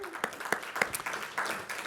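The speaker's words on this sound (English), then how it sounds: "And that deserves a round of applause." An audience applauds during a city mayor's address on progress and achievements, steady clapping with a few sharper claps, heard at a moderate distance over a brief stretch.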